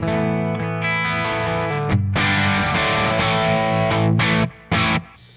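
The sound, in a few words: electric guitar through Euphoria overdrive pedal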